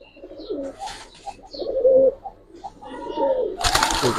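Giribaz pigeons coo in a few soft, throaty bursts close by, with brief rustles in between and a sharp noise at the end.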